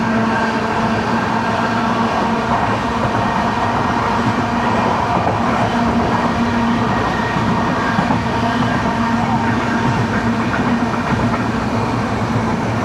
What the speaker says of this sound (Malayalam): പാലേരി എക്സ്പ്രസ് ആണ് പോകുന്നത്